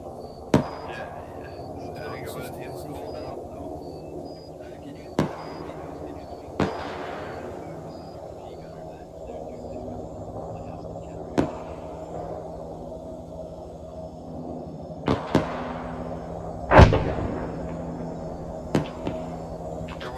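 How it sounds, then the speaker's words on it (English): Explosions in the military shooter game ArmA on the Tanoa map, a series of sharp booms and cracks scattered through a steady background hum, the loudest burst near the end, with soft talk now and then. "That explosion again."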